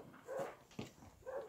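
An Anglo-French hunting hound bays while chasing roe deer in a hunting trial, with three short yelping barks at a distance over faint outdoor background.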